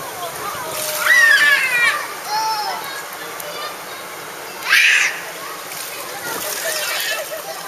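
People bathe in outdoor water, making splashes and sloshing that swell in two louder bursts, with children's voices and talk mixed in around them.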